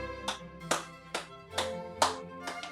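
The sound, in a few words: children clapping along in a music lesson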